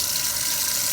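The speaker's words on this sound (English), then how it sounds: "Then I'm going to add some water." Water is poured steadily into a cooking pot holding crushed uyayi spices for a Nigerian catfish pepper soup, making a loud, continuous gushing wash with no talk over it.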